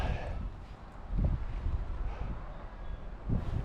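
Gusty high wind buffeting a microphone at a paramotor takeoff site in Hawaii, a continuous low rumble that swells in a few stronger gusts.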